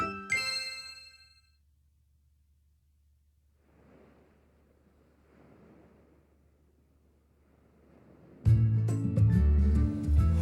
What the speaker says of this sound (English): Was that the doorbell?